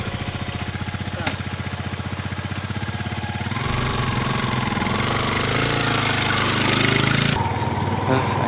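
A motorcycle engine runs steadily nearby on a farm, with a loud chugging idle that rises into a fuller, busier drone partway through and then eases back.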